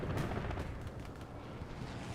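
Gunfire from a strafing run in the video game Hell Let Loose, in Carentan's town center: a series of rapid bursts and booms, moderately loud, with no one talking.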